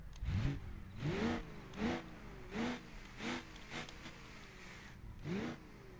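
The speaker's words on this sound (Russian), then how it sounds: "Можно протестировать этот новый 8-й двигатель." A V8 engine in the BeamNG.drive video game is revved repeatedly: about seven short rising blips in a steady rhythm, each climbing in pitch and then dropping back, fairly faint with no talk.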